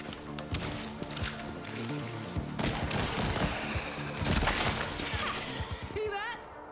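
Gunfire in a free VR shooter game, loud rapid shots and cracks in dense bursts over a busy game soundscape, with a brief whine near the end.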